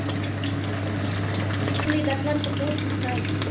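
Stuffed vegetables for Cypriot yemista fry in a pan, giving a steady, even sizzle and crackle that holds at constant loudness over a low hum, with soft stirring and faint speech underneath.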